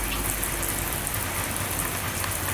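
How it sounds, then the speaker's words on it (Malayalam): Rain falls steadily on a stormy day, a dense, even hiss of drops with a low rumbling undertone, continuous and fairly loud throughout. "ഒരു മഴക്കാറും ചൂടും ഇടിവെട്ടും മഴയും എല്ലാം ഉണ്ട് ഇന്ന്"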